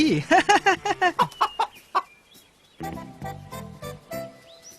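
A chicken in a narrated Buddhist Jataka folk tale gives a quick run of close, loud, rhythmic clucks, about a dozen in two seconds, then after a short pause a lower, softer series of clucking calls follows.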